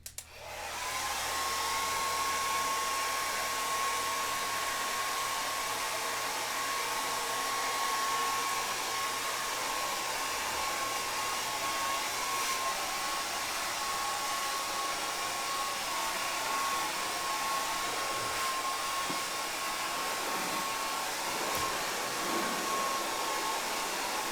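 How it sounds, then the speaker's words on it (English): A hair dryer blows continuously at close range, heating window insulation shrink film, a steady rushing roar with a thin constant whine throughout. "after we ran the hairdryer over this"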